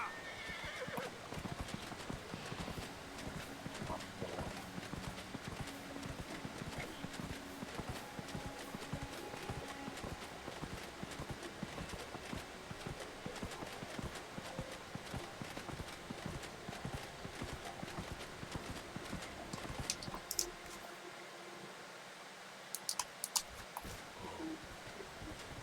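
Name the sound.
horse neighing and clip-clopping in a video game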